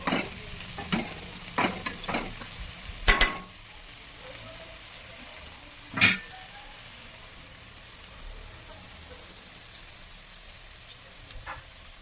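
Okra fry being stirred in a frying pan over lowered flame, a few scraping stir strokes in the first seconds and another near six seconds over a quiet, steady low sizzle, close by with no talking.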